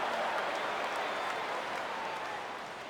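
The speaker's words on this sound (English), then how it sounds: "Crowd gets up for the 3-2." A stadium crowd in the MLB 15 The Show baseball video game rises and cheers ahead of a full count, a steady broad roar that fades slightly toward the end.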